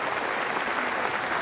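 Cricket crowd at a Test match in Wellington applauding a New Zealand batsman's unbeaten 137, a dense, steady wash of clapping with no voices over it.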